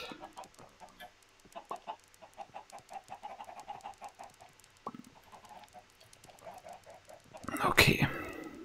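Chickens in the Minecraft video game cluck in short repeated bursts through much of the stretch, moderately loud, ending in a louder burst of game noise.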